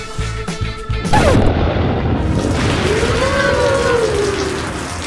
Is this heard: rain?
yes